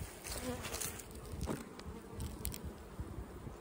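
Bees from a row of hives in extreme heat give off a soft, steady buzzing drone that stays faint and even throughout, with no voices.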